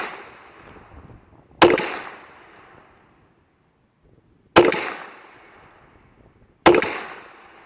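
Three sharp shots from an old Astra 600 pistol fired at a steel chest target outdoors, each a loud crack with a fading tail, spaced a few seconds apart with faint handling noise between.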